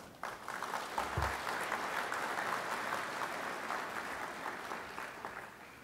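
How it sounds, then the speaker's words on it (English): Steady applause from an audience at a Georgia farm organization's annual meeting fills the whole stretch, a continuous even patter of many hands at moderate distance with no speech over it. "Please give yourself a round of applause."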